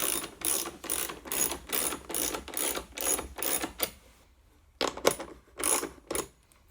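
A ratchet tightening a clamping jig for assembling rustic flags, rapid clicking in short bursts, several back-to-back strokes, then a pause and two more quick bursts, close and clear with no talk.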